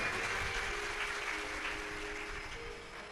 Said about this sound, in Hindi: एक बार इनके लिए जोरदार ताली बजाएं।